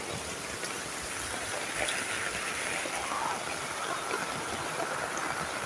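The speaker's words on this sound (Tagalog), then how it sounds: "Ang ulan." A heavy rain downpour hisses steadily, a constant dense patter with no voices.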